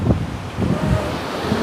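Strong stormy wind blowing outdoors during the cold season, a loud, continuous rumbling buffet with gusty surges against the microphone and no speech.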